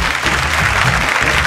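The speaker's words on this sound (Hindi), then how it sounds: "जोरदार ताली के साथ स्वागत करी" An audience at a Bhojpuri TV singing contest show applauds the judges as they arrive: dense, loud, sustained clapping that fills the short stretch with no talk.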